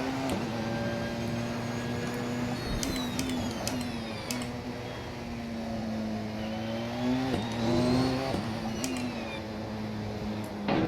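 Porsche 919 Hybrid race car driven around Sebring in the racing game Assetto Corsa, its high-pitched engine note holding steady and then dropping and rising through gear changes and corners, loud and continuous without talk.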